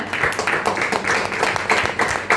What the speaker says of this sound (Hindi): तो उनको जोरदार तालियों से स्वागत करते हैं हम लोग। जोरदार तालियां।